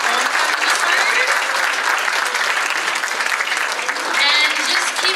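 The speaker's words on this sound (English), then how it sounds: "can we get one more round of applause for all of the amazing poems that we just heard?" Sustained audience applause at a poetry festival, dense steady clapping from a large crowd that holds strong for the full stretch, swelling slightly near the end.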